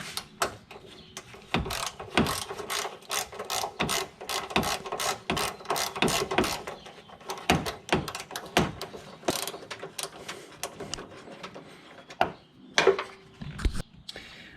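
Ratcheting wrench clicks in rapid bursts while loosening a radiator mount on a 2011 Honda Pilot, close and fairly loud, with short pauses and metallic taps between runs and no talking.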